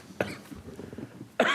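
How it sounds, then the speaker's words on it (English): Two sharp coughs during a city council meeting, one near the start and one near the end, with quiet room murmur between them. "Coughing."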